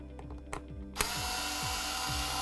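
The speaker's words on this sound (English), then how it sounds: "I'm gonna first take these screws out" A small screwdriver clicks and ratchets against screws in a VHS tape cassette with a few quick ticks, then a steady whirring power-tool drone takes over with a rhythmic repeating grind.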